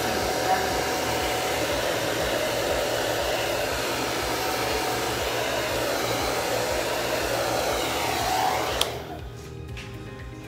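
Hair dryer blowing steadily on wet chalk paint, a loud constant whooshing whir that runs for about nine seconds before switching off near the end.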